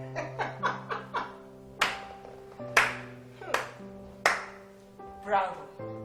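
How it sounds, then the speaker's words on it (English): Hand claps ring out in a sparse, uneven sequence, a quick run of five claps followed by several louder single claps spaced about a second apart, close and reverberant over a soft sustained music bed. "Clap for yourself."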